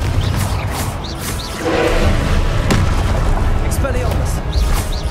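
Confringo blast spell in Hogwarts Legacy: a continuous, loud, rumbling stream of booming impacts and whooshing bursts with a swell partway through, dense game combat noise throughout.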